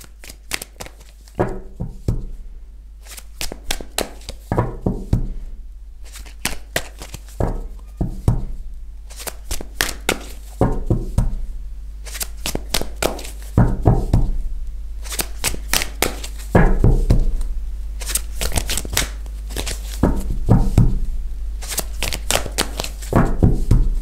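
Deck of cards shuffled repeatedly for a card reading, rapid crisp riffles and taps in quick bursts with short pauses, close up and steady throughout, with no voices.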